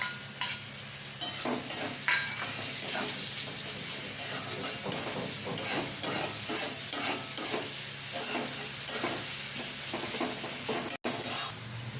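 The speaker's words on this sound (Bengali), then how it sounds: "একটু লাল লাল করে ভেজে নেব।" Chopped onion and green chillies fry in hot oil in a home kitchen, a steady sizzle broken by repeated scrapes and stirs of a spatula against the pan, with one sharp click near the end.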